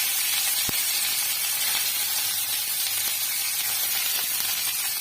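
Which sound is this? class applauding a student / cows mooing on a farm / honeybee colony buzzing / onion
onion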